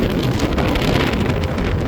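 Steady, loud wind roars and buffets against the microphone throughout on a Peak District hillside near Chrome Hill, a dense rumbling rush with no voices.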